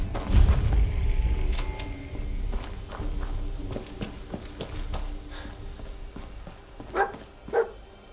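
Dogmeat the dog in Fallout 4 gives a few short barks near the end, after a stretch of footsteps and scuffling movement nearby.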